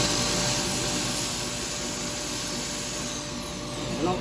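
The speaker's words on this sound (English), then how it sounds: "I'm going to do a little bit of the sanding on this now" A woodturned cowboy hat is sanded on a lathe with 240-grit paper, a steady whirring hiss with the lathe's constant hum underneath, continuous and close throughout.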